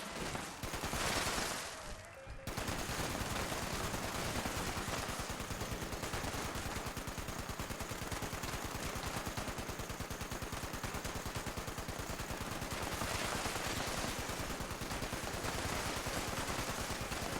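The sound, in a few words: gunfire in the video game Fallout 76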